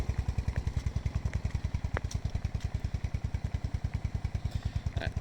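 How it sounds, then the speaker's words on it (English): A Yamaha Big Bear 350 ATV engine idles steadily close by, a low, even, rapid thumping pulse with a faint mechanical clatter, running on its own without talk. "As you can tell, this thing idles pretty good."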